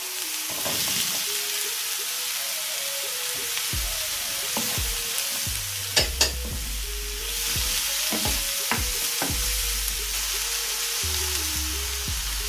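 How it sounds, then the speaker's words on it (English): Baby cucumbers go into a frying pan of prawns for a creamy spicy stir-fry, bringing a steady loud sizzle broken by repeated clacks and scrapes of stirring. "And now I'm going to add my baby cucumbers."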